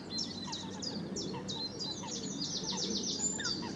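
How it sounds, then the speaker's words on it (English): Chiffchaffs and a chaffinch sing in woodland by a man-made lake, a steady stream of quick, bright chirps and trills at moderate distance, layered over faint outdoor background with no talking. "plenty of bird song, chiff chaff omnipresent, dominant sound thus far, along with a chaffinch."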